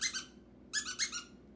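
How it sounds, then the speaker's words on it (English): A squeaky toy squeaks in two quick bursts, a pair of high chirps, a pause, then three more close squeaks, loud and clear against a quiet room. "The loudest one was a squeaky toy."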